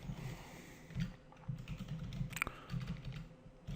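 Soft, quick keystrokes tap on a computer keyboard in an irregular run, fairly quiet and close, with no voice over them.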